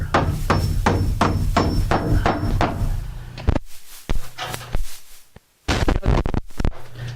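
Sharp, rapid hammer blows drive nails through a timber top plate into a roof rafter, a quick series of ringing strikes followed by a few slower, heavier whacks after a brief pause.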